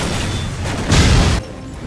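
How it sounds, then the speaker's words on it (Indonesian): Parked cars at a prison explode in a film. A short, loud, roaring blast of about half a second rises out of steady background noise and then drops back. "satu demi satu mobil yang terparkir di area penjara tiba-tiba saja meledak"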